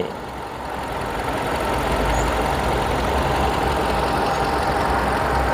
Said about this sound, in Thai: เป็นเครื่องยนต์เบนซินนะครับ